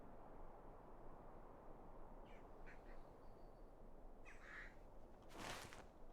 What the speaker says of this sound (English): Man, that was a nice little bird sound effect.